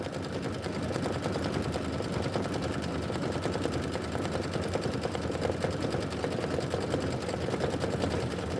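An embroidery machine stitches nonstop in a fast, even mechanical chatter that holds a constant loudness for the whole stretch, with no voices.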